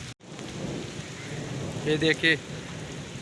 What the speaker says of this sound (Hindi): शुक्र है अल्लाह का कि बारिश हो रही है।